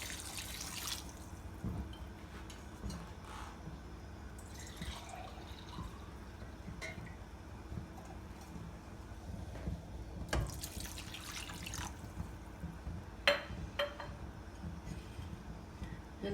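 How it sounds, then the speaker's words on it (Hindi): Half a litre of water pours into a pan holding dried plums, a faint trickling and splashing flow with scattered drips and clinks, steady and close. "इसमें 1/2 लीटर पानी जाएगा।"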